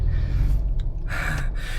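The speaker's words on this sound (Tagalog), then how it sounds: "Hinihingal ako kasi kinuha ko yung galon." A person breathes heavily, panting with gasps and sighs after lugging a refilled water gallon jug, close and alone inside a car with a low rumble beneath.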